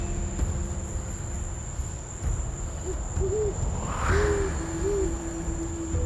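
An owl in the Amazon night gives several soft, low hoots spaced a second or so apart, set against a constant high whine of crickets and insects.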